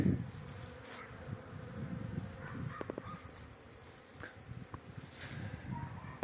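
Honeybees flying outside the hive on a cleansing flight on a winter day, a continuous soft buzzing hum with passing individual bees, faint and outdoors, with a few distant bird calls in the background.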